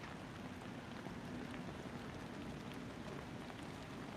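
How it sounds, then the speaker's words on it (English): Rain falling outdoors at a trackside railfan spot, a faint steady patter and hiss with low rumble throughout, no voices. "I'm getting battered with rain"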